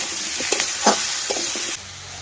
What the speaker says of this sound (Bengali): আলু আর দয়রা কলা বন্ধুরা কষানো হয়ে গেছে